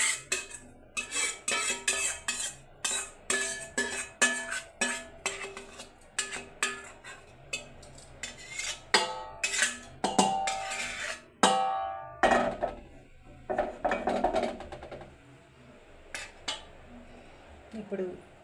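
Roasted sesame seeds stirred in a pan for laddu, giving a steady run of close scraping clicks and clatter from a spoon or spatula against the metal, with louder bursts partway through.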